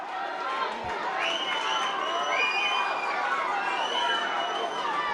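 Ardmore supporters whistling at a Munster junior hurling final against Ballybacon Grange, several shrill rising and sliding whistles over a loud crowd roar with shouting voices mixed in.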